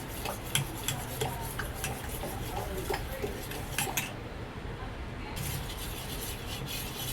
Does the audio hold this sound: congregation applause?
no